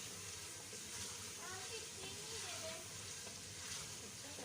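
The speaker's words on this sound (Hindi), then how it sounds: "लहसुन अदरक का पेस्ट डालने के बाद भी इसको भूनना है।" Garlic ginger paste fries in a pan for palak gosht, a faint, steady sizzle with light stirring and soft speech over it.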